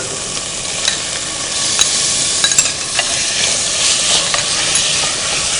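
Prawns frying and stirred in a pan for a mixed non-veg pulao give a steady, loud sizzle and hiss, with scattered clinks and scrapes of the spoon throughout.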